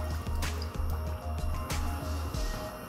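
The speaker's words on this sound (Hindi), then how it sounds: "और साथ ही पानी डाल देंगे" Water being poured into sugar in a pan on a stove at full flame: a steady, close splashing pour with a low, rhythmic background hum throughout.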